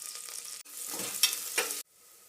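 Onion and curry leaves hit hot oil for mutton soup, with a bright close sizzle and a brief stir, broken by a short gap and ending in a sudden drop to near silence.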